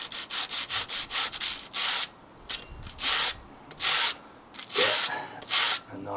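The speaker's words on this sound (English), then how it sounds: "sand on these clutch plates." Rhythmic hand sanding of glazed Piaggio ET4 scooter clutch plate friction pads on a flat surface, quick rasping strokes at first, then slower separated rubs, close up with no talking.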